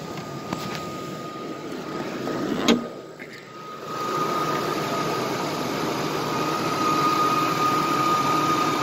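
A Lincoln Navigator engine idling with a slight misfire, a low, steady rumble at moderate distance with a brief clunk partway through, the idle holding on evenly afterward.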